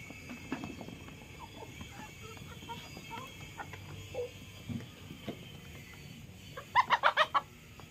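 Chickens cluck softly through a farmyard scene while azolla and crumbles feed is given, with scattered fowl calls and a quick burst of louder clucks near the end.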